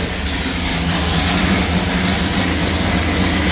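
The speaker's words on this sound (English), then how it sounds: "That's the sound of an Indy car running in the building." An Indy car engine running inside a building gives a loud, steady, low rumbling idle that fills the space and holds without a break for a few seconds, with a broad hiss over the top and no voices.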